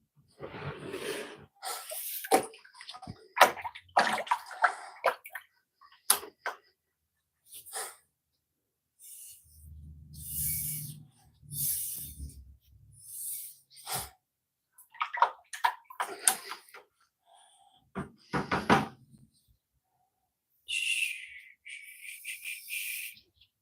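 During pottery work, water splashes and sloshes in scattered bursts, close and uneven, mixed with breathy sniffs and quiet gaps between the splashes.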